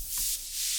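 A sweeping, noisy downward whoosh effect from a speed garage track, side-chained, airy and rushing, with a low thump underneath, short and fairly loud.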